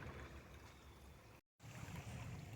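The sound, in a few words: water flowing in a stream channel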